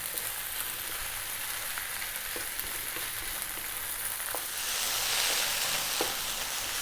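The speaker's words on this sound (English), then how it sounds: "To that we're going to add the oregano and thyme. And again, another 4 minutes on the above medium heat. Stirring this in, cooking it away." Herbs, oregano and thyme, being stirred into food frying in a pan over medium heat, giving a steady close sizzle with faint scrapes of stirring and no talk.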